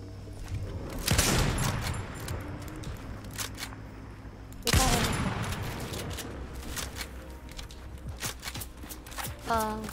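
Enemy gunfire in an online duos shooter video game, with two loud bursts of rapid shots plus scattered single reports, heard close and sharp with players talking over it.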